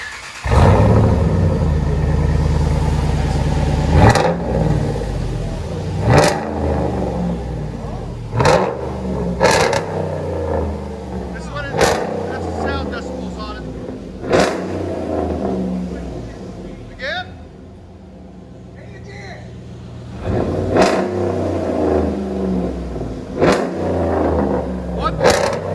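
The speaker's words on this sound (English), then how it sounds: "So basically, a muffler delete and a resonator delete, straight pipe." A RAM 1500 pickup with a 5.7L HEMI V8 and a straight-pipe exhaust, its muffler and resonator deleted, revving loudly with repeated throttle blips and deep rumbling, with a voice talking over parts of it.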